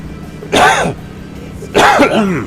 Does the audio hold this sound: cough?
yes